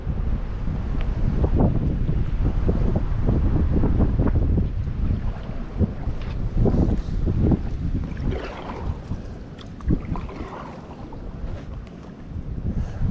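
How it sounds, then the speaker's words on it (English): Strong wind buffets the microphone in a continuous rumbling roar on a boat, with water sloshing faintly underneath and no talking. "That wind's something else today"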